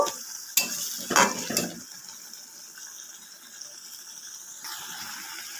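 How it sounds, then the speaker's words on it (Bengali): Bitter gourd pieces tipped into a pot of boiling water, a few splashy clatters followed by a continuous close bubbling hiss. "এবার করলাগুলো দিয়ে দেবো তিরিশ সেকেন্ডের মতো ফুটিয়ে ঢেলে নেব"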